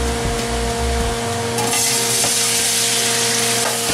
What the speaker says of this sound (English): Now the oil is quite hot and I'm going to introduce fish in it.